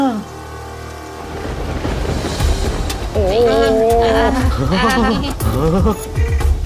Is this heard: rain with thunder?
yes